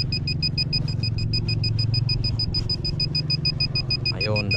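A metal detector sweeps over buried iron during an outdoor treasure hunt, giving a rapid, steady pulsing beep that stays loud and continuous over a low background rumble.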